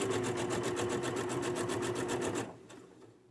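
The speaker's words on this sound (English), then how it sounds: "I am just going to do a straight stitch just right across the top just to hold these two pieces together" A sewing machine runs a straight stitch across the top of two fabric pieces, a steady fast rhythmic whir of needle strokes heard up close and alone before it stops abruptly near the end.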